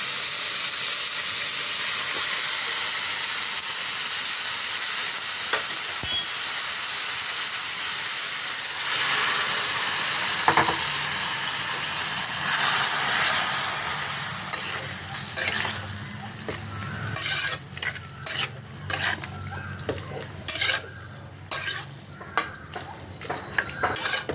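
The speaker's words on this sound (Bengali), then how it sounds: "ফোড়নটা হয়ে গেছে, ফোড়নে দিয়ে দিলাম।" Pumpkin greens fry in a hot spice tempering, a loud close sizzle and hiss that settles into bursts of stirring clatter against the pan toward the end.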